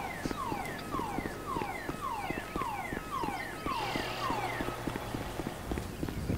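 A truck siren in the GTA V video game wails in repeated falling sweeps that keep a steady rhythm for several seconds, loud and close over engine hum, with a harsher layered tone joining midway.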